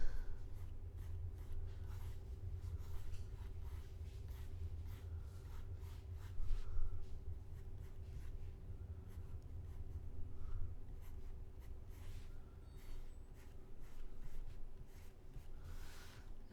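A stylus scratches and taps lightly across a drawing tablet while a brush is tested in Clip Studio Paint, producing faint, irregular strokes that are quiet and close.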